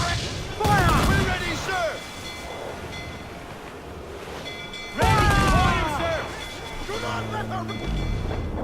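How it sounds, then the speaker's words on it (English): Ship cannons in the Black Flag video game fire in two heavy booming volleys amid surf and wind, each blast followed by a long rumbling tail, with crew voices shouting between them. "Fire! Guns out! Fire!"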